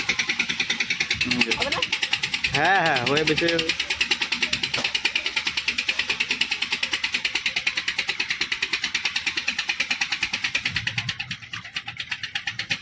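A motor boat on the Ganges arrives with a steady, rhythmic chugging engine that throbs close and even throughout, while people talk over it near the start.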